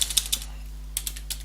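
Someone types on a computer keyboard, close and crisp, with a quick cluster of key clicks, a short pause, then a few more taps.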